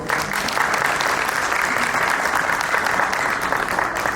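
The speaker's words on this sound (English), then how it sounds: "A round of applause again," An audience at a startup pitch competition applauds a finalist team with steady, sustained clapping from many hands that fills the room without letting up.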